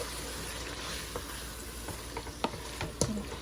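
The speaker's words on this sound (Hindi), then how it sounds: "थोड़ी देर भूनेंगे" Mutton liver masala frying in a pan, a low steady sizzle with scattered faint spoon taps growing slightly busier toward the end.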